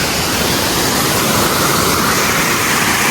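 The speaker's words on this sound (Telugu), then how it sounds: "నీళ్ళు చూడండి ఎక్కడెక్కడి నుంచి వస్తున్నాయి." A waterfall near Srisailam roars loud and close, a thick, unbroken wash of rushing water that drowns everything else, with no voices.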